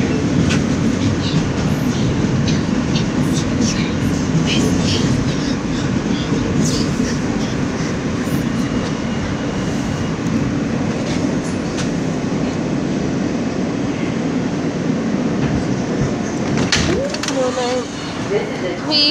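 A subway train rumbles steadily throughout with constant low roar and occasional clattering, at a close and loud level.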